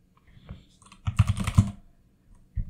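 Someone types on a computer keyboard while entering terminal commands for a home server setup. Close, crisp key clicks come as a few isolated taps, then a quick cluster of keystrokes, then one final press.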